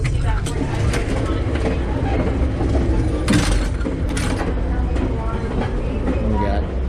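Alaska Railroad passenger train between Anchorage and Seward rolling along, a steady rumble with creaks and mechanical rattles of the car, with people talking nearby throughout.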